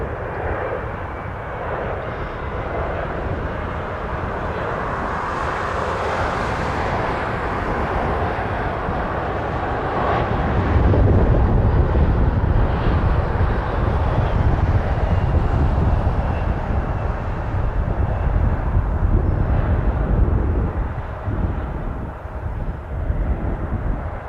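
A Jazz airliner takes off from runway 23 at Toronto Pearson airport, its jet engines a steady, loud roar that swells about halfway through and holds strong, with no voices.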